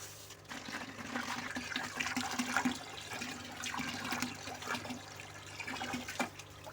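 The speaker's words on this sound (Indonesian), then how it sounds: "Kemudian bak filternya juga kita bersihkan dengan cara menyemprot seperti ini." Water sprayed from a hose to clean out a catfish pond's filter tank in a recirculating system, a steady rushing hiss with splashing surges, close and fairly loud throughout.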